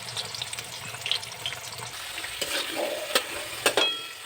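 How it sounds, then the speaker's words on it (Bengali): Potatoes frying in a pan in a home kitchen, a low steady sizzle with occasional stirring scrapes and clinks, faint background noise and no talk. "আলুগুলো ভেজে নেব।"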